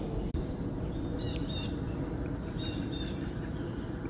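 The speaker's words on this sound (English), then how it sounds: "Birds are chirping." Birds chirping on a farm as a storm brews, with robins, blue jays and sparrows calling in short bursts over a loud, steady wind-like background rumble.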